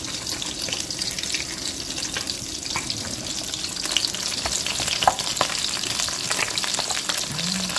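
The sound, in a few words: fish frying in oil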